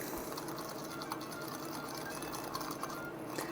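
A whisk beats a thick coffee mixture, giving a continuous busy whirring, close and fairly even, with no voices over it.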